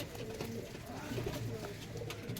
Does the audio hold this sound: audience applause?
no